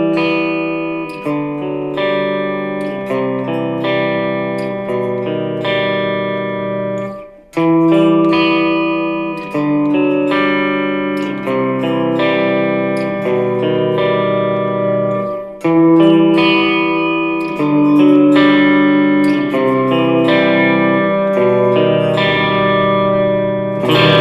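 Harley Benton ST JAMster electric guitar on its bridge pickup, drenched in heavy reverb: chiming sustained chords and arpeggiated notes ring out in dreamy washes, played alone with a brief pause between phrases.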